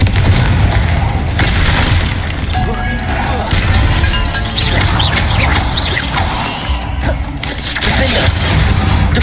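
Confringo fire spell blasting in the Hogwarts Legacy game, loud continuous crashing explosions and rumbling impacts filling the whole stretch.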